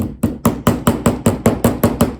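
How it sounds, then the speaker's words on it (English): A small hammer tapping a metal piece into a junk journal, about ten sharp, evenly spaced strikes, close and loud, with no talking. "And a little hammer. Just gonna hammer it in place."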